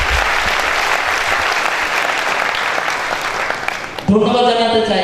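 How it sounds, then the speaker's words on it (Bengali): An audience at a Grand Achievers Celebration applauds its leaders loudly and steadily for about four seconds, and then a voice begins speaking as the clapping ends. "আমার সামনে উপস্থিত সকল নেতার জন্য একটা জোরদার করতালি প্রত্যাশা করছি"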